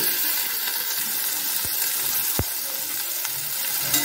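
Onions and tomatoes sauté in a hot pan with a steady, close sizzle throughout, broken by a couple of soft clinks or stirs, with no one talking.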